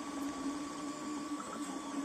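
An Ortur 4 V1 3D printer running a print, with a steady close mechanical whir and a constant tonal motor hum holding throughout and no talking.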